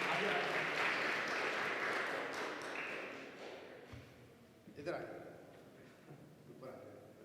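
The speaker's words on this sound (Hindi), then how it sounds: "हम ज़ोरदार तालियों में उनको वेलकम करते हैं।" A church fellowship congregation claps loudly to welcome a guest, the applause strongest at first and thinning out over several seconds as a voice talks over the fading claps.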